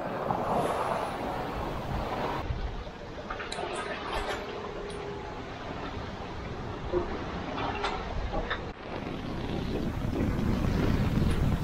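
Strong, steady wind of 20–25 knots roars around a sailboat pitching in heavy swell in open sea, with continuous rushing noise and splashes of water washing over the deck.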